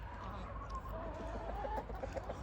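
Chickens clucking in a fairly large outdoor pen, soft busy murmur of fowl calls against low background rumble, moderately faint and continuous.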